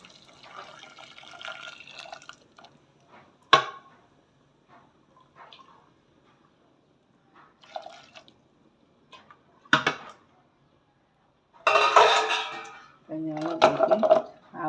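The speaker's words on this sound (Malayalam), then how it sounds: "കുറച്ച് കഞ്ഞിവെള്ളം ഇതിലേക്ക് ഒഴിച്ച് കൊടുത്തുകയാണ്" Rice water is poured into a pot of cooked food on a switched-off stove, giving short splashing, liquid bursts near the end, with brief clinks and talking in between.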